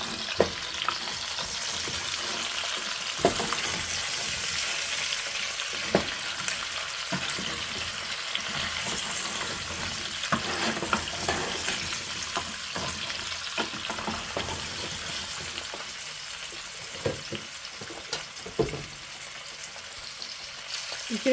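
Onion fries in a pan with a steady sizzle, while a utensil stirs it and scrapes the pan now and then in a home cooking session for a bean and vegetable dish.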